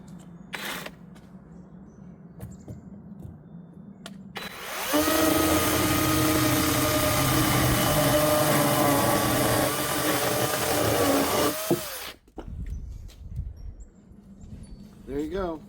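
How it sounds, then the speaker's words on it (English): A Kobalt 40-volt battery-powered saw cuts through wood with a loud, steady whirring grind that lasts about six seconds. Quieter handling noises and talk come before and after it. "Wanted to mention my saw, this Cobalt 40 volt max."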